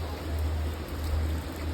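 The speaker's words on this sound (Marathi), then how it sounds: "एवढा सुसाट पडतोय पाऊस" Heavy rain falls steadily and loudly, a dense hiss with a strong low rumble underneath, and no voices are heard.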